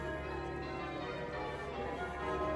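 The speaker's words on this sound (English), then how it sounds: "oh, we've got the bells again." Church bells ringing at Chichester Cathedral, a dense continuous wash of overlapping metallic tones, steady and moderately loud, with no speech over it.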